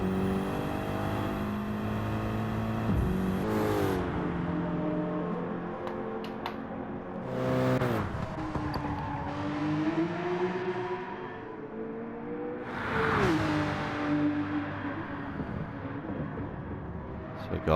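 Race car engines lapping in Gran Turismo 7, with repeated rising revs and gear-change dips, whooshes of cars passing and a steady engine drone throughout at moderate level.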